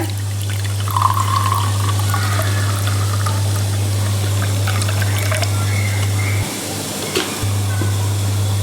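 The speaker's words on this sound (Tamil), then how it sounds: "3/4 கப் அளவுக்கு வினிகர் ஆட் பண்ணிக்கோங்க." Vinegar trickles and pours steadily into a bowl over a constant low electrical hum, with a faint brief splash near the end.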